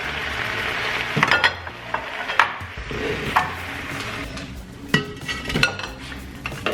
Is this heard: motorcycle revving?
no